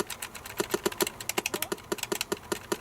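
Fingers tapping on the worn membrane keyboard of a Sinclair ZX Spectrum 128k Plus, a quick irregular run of soft dull key presses, close up with no talking.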